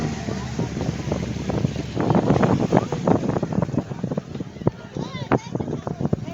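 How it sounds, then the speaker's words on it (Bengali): A boat moves through the Sundarbans with a steady engine drone, wind buffeting the microphone and water rushing past. A person talks throughout over the noise. "যেই বোট চলা শুরু হয়েছে"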